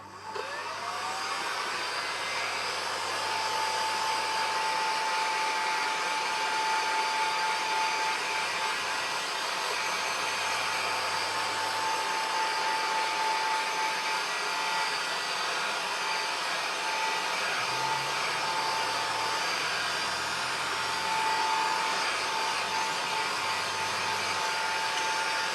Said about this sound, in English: run the hot air gun over the top of this just to pop any air bubbles